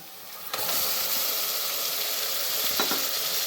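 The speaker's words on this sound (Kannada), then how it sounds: "ಚೆನ್ನಾಗಿ ಫ್ರೈ ಮಾಡಿ, ಹಸಿ ಸ್ಮೆಲ್ ಹೋಗೋವರೆಗೂ ಫ್ರೈ ಮಾಡಿ" A paste of ginger, garlic and green chilli is fried in a pan for veg pulao, with a sudden sizzle as it hits the oil that settles into a constant hiss, plus a brief stir later on.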